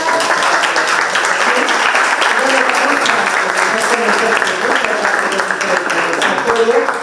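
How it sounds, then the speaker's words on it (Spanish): Sustained, dense applause from an audience at an academic presentation, a steady wash of many hands clapping for several seconds, fairly loud, with voices mixed in underneath. "un aplauso a nuestra gran"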